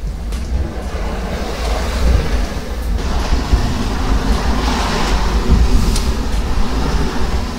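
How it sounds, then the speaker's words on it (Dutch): Wind and waves at sea aboard a sailboat crossing from Terceira toward the Netherlands in 21 to 22 knots of wind, a loud continuous rush of wind buffeting the microphone over churning, breaking water with no voices. "En af en toe komen golven over."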